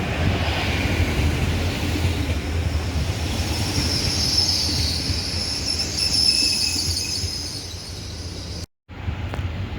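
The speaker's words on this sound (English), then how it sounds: "the 1510 Great Western Railway service from Paignton to London Paddington is just leaving. It's worked by 802114." Great Western Railway class 802 unit 802114 pulls out of Taunton station, a sustained rumbling roar of the departing train with high squealing from the wheels, steady and fairly loud, briefly cutting out near the end.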